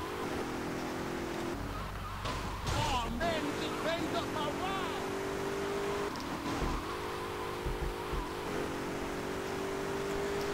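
Car engine from GTA Vice City driving through Downtown, a steady low drone with some revving, heard beneath game music and effects while someone talks over it.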